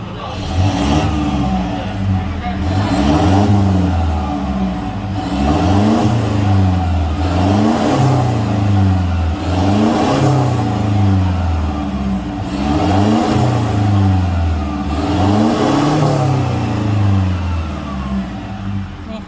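A van engine fitted with a new quiet exhaust system, revved repeatedly in a steady rhythm of rising and falling pulls, about eight swells, loud and close with no talk.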